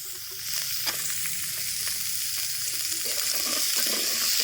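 Hot oil sizzles steadily in a pan while Qurbani meat is cooked, with jackfruit seeds to be added. The frying hiss holds close and constant, broken by a few light clinks and stirring scrapes, with no talking.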